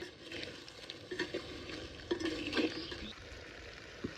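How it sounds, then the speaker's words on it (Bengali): Fried crab stirred into a tomato paste spice masala with salt, turmeric and Kashmiri chilli powder in a pot, giving a soft continuous sizzle with scraping stir strokes and occasional utensil clinks, close and moderately quiet. "টমেটো বেটে রাখা মশলাটা দিয়ে দেবো। লবণ, হলুদ, কাশ্মীরি লঙ্কা গুঁড়ো দিয়ে দেবো। ভেজে রাখা কাঁকড়াটা দিয়ে দেবো"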